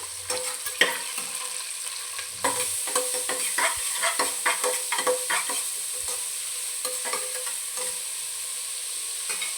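Onions, capsicum and green chillies stirred in a hot frying pan for egg rice: repeated scraping spatula strokes over a steady, close sizzle, with no talking.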